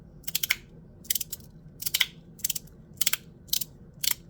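A PEI Magic Track 2.0 ball track mechanism runs alone, sounding as quick bursts of sharp ratcheting clicks in a steady rhythm, about seven clusters close to the microphone.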